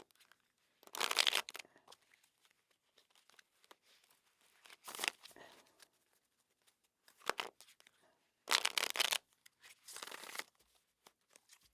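A deck of tarot cards is shuffled and cut in several quick, crisp bursts separated by quiet pauses, close and fairly soft.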